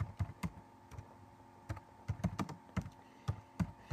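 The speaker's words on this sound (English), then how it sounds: "So come to search and you type create fishnet." Soft, irregular key clicks from typing a short search term on a computer keyboard in quiet surroundings, each stroke a distinct tap at uneven intervals.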